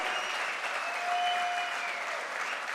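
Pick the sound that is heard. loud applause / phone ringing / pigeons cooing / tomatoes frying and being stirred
loud applause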